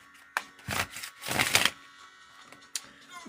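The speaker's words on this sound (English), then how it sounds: "let me shuffle" Tarot cards being shuffled by hand, giving two bursts of dense riffling and flicking close up, followed by a couple of sharp single card snaps, with no talking.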